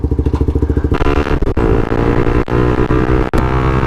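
A Suzuki GSX-R 125 motorcycle accelerates hard, the small single-cylinder engine first chugging in rapid pulses, then rising into a loud, sustained rev with brief dips at gear changes, close and alone.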